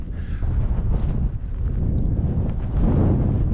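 Strong wind at the Echo Basin sand dunes buffets the microphone in loud, continuous rumbling gusts that swell and ease over a few seconds.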